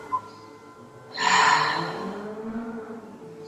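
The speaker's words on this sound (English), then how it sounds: "Last couple of big breaths." A single deep, audible breath during a hatha yoga session, a close airy inhale-exhale that swells after a quiet moment and slowly fades, alone without talking.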